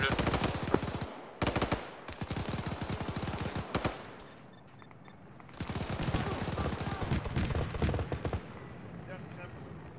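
Rapid automatic gunfire from an Arma 3 firefight, loud bursts of shots in close succession with a brief lull midway, plus some radio-style voices underneath.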